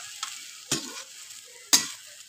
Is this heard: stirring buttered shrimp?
yes